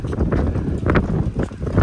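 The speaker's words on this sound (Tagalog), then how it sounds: "Salubong yung hangin, men." Strong headwind gusts during a heavy rainstorm on an outdoor adventure route in Saudi Arabia buffet the microphone in a loud, rumbling roar with uneven surges.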